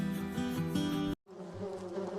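A steady, loud buzz of many honey bees close by, cut off by a brief silence near the middle before the droning swarm resumes at a slightly lower level.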